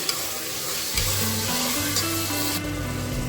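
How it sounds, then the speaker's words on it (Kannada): Tomatoes fry in a pan over a high flame, making a constant bright sizzle with occasional stirring scrapes, heard close with no talking. A low tonal hum runs underneath. "ಇದೊಂದು 1 ಮಿನಿಟ್ ಫ್ರೈ ಮಾಡಿದ್ರೆ ಸಾಕು. ಹೈ ಫ್ಲೇಮಲ್ಲಿ ಇಟ್ಕೊಂಡಿದ್ದೀನಿ."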